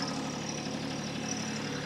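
A TYM T264 tractor engine runs at a steady idle-like drone while its front loader is raised, a close, continuous mechanical hum with no speech.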